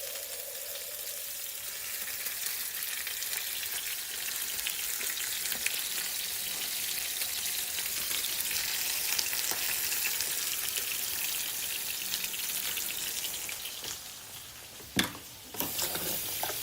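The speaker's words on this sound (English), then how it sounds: "I don't like grapeseed because it pops at you." Grapeseed oil crackles and spits in a hot frying pan, a dense steady sizzle with scattered sharp pops running throughout, close and fairly loud, a few louder snaps near the end.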